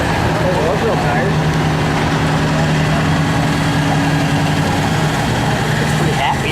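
Worn-out truck-pull truck engine with blow-by idles loudly in a steady, rough rumble while people talk over it nearby.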